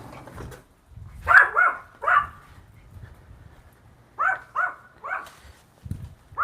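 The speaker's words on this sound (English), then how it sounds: "Got a dog barking." A dog barks in two quick clusters of sharp yaps, fairly close, with a quiet pause between them.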